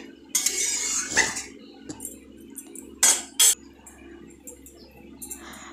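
A spoon stirs boiled cauliflower in a metal pot, giving a few sharp scraping clinks and knocks at irregular intervals, close and fairly quiet between strikes.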